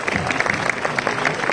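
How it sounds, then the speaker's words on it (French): A live audience applauds a guest named Sven after a film screening with a cast and director Q&A; brief, dense clapping at moderate volume with some crowd noise. "applaudissements pour Sven"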